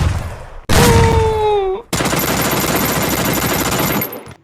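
M10 gunfire from the Free Fire video game rips out as a loud, dense burst of continuous rapid shots lasting over two seconds, after an earlier wailing tonal sound and low rumble, with no speech.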